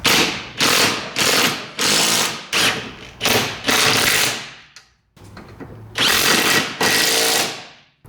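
A power tool tightens sway bar bolts on a Mitsubishi Evo 8 during a suspension upgrade, firing in about eight loud, close bursts of whirring and ratcheting with brief gaps and one longer pause.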